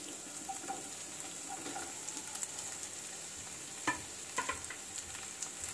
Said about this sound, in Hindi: अब स्क्वायर शेप में कटा हुआ शिमला मिर्च और प्याज डालेंगे।